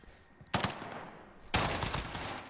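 Two sharp, loud Striker shotgun blasts in the video game Call of Duty Modern Warfare, spaced about a second apart, each followed by a decaying roar.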